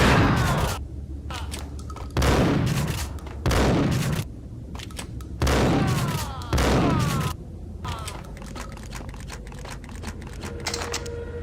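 Bursts of rapid gunfire in the video game Max Payne, several loud volleys of shots separated by short pauses, with brief game voices in between.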